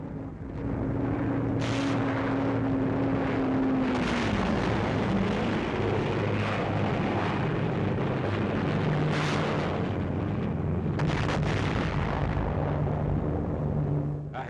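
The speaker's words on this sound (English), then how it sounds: "Naha is hit from the air as rocket-firing planes support the attack." Rocket-firing planes attack Naha in 1945 WWII combat footage: a droning aircraft tone slides downward, and repeated heavy blasts and rumbling explosions follow under continuous loud noise.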